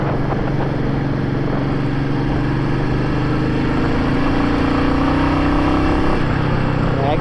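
A Royal Enfield Meteor motorcycle engine hums steadily while the bike is ridden on the road, a continuous low drone with a slight rise in pitch toward the end.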